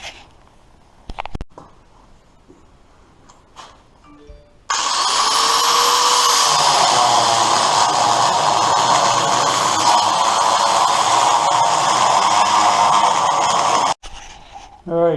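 A power tool cuts into a steel Chevy S10 chassis. After brief talk, the tool spins up with a rising whine, then grinds loudly and continuously for about nine seconds before cutting off abruptly.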